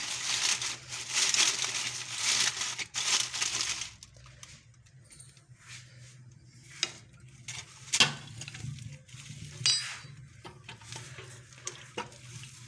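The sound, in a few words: butter paper being spread and crinkled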